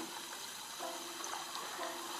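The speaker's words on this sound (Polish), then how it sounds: "W momencie, gdy już stwierdzimy, że jest ok, wciskamy spryskiwanie wodą" Continuous hissing spray of water from a fire hose in the Sprinkle mobile game on Android, steady and fairly faint with slight surges, no voices.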